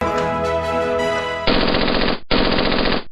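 Aerial celebratory gunfire: long, dense bursts of rapid automatic shots ring out loud and close, one sustained volley breaking briefly before a second burst resumes, with a steady background din underneath.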